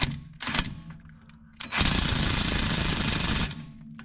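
A battery power tool on a VW Golf strains at a stubborn screw, giving short loud bursts of rattling hammering, then a longer sustained buzzing impact run of about two seconds before it stops.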